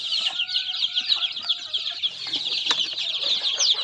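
Native and cross-bred chickens, including young birds, cluck and chirp in a steady, busy stream of short calls close by, with occasional sharper squawks and no talk.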